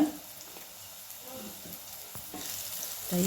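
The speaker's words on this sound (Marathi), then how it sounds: "मिक्स करून घेऊया सगळं" Spices including turmeric, garam masala, coriander powder and asafoetida are stirred into farsan bhaji frying in a pan, a low steady sizzle with faint scattered scrapes that swells slightly toward the end.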